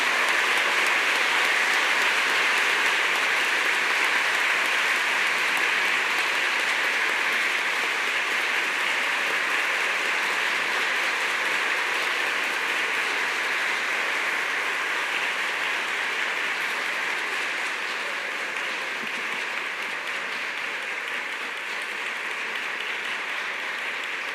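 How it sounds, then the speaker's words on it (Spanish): Sustained audience applause at a Lenten church gathering, a steady wash of many hands clapping for over twenty seconds, loud and even, slowly tapering toward the end. "Con este aplauso lleno de cariño, deseamos que retorne bien a casa."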